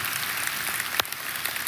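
Church congregation applauding, a steady wash of clapping at moderate level with one sharper clap burst near the middle.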